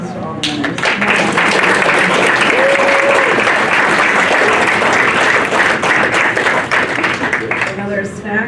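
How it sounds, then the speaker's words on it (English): Audience applause for award winners at an awards event: dense, loud clapping from a crowd that swells and holds steady for several seconds before thinning out, with a few voices mixed in. "let's just give another round of applause to all the winners"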